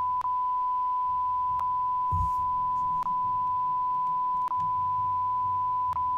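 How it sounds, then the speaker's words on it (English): Short electronic beeps sound at a steady pace about every one and a half seconds, five in all, over a constant thin tone and a low background hum, with one brief dull thump near the middle. "The video has a beep."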